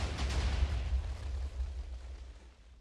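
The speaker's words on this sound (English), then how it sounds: "I've actually put the target inside of the building so we get the best possible explosion." A TNT missile detonates inside a building in a video game, giving a loud, deep rumbling blast that rolls on and slowly fades over about three seconds, with no talk.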